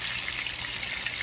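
Bacon-wrapped Twinkies fry in a shallow layer of oil in a pan, giving a steady, close, hissing sizzle with no talking.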